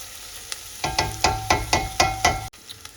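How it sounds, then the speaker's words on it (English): Thawed green peppers sautéing in a pan for a Greek pastitsio, with a steady sizzle broken by about six rhythmic stirring scrapes close by, then a softer sizzle after a brief click. "we're just gonna let that saute until, I think for about an additional 3 minutes, just until the green peppers are nicely thawed"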